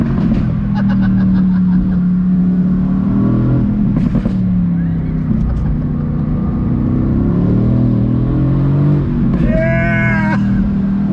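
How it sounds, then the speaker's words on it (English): Mercedes AMG GT C convertible with the top down pulling away in first gear under throttle, a loud, rising engine drone that builds steadily from inside the car, with a brief burst of cabin noise near the end. "We're in the AMG GT C. We got the top down, first gear, on throttle."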